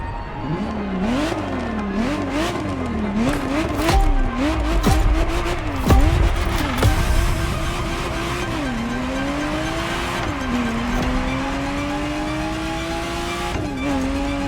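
A Ferrari Testarossa driving in The Crew Motorfest, its engine revving up and down through gear changes, then holding long rising pulls with tire noise, loud and up close.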